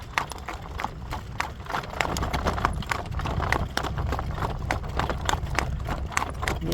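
Horse hooves clip-clop steadily in a working trot on a cool morning, an even, repeating beat of close, fairly loud footfalls over low wind rumble.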